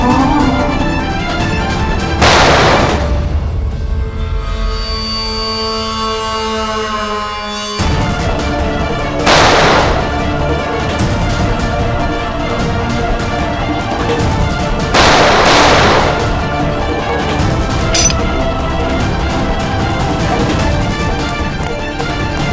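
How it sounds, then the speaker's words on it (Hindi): Gunshots ring out in a tense crime-drama scene, three sharp, loud cracks spaced several seconds apart over a steady dramatic background bed. "मैं गोली चला दूंगा।"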